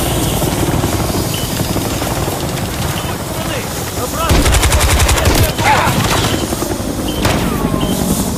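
Helicopter rotor drone in a Call of Duty Modern Warfare III battle, with heavy gunfire and machine-gun bursts hammering around it, loud and dense, growing more intense midway with voices faintly under the din.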